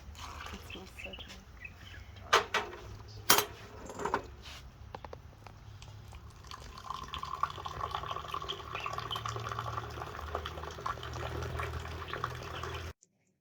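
Mint tea poured from a height into glasses in Marrakech, Morocco, a steady trickling stream of liquid that grows fuller in the second half, with a few sharp clinks early on and voices murmuring in the background.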